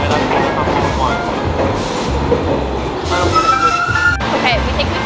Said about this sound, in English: we think we found the E subway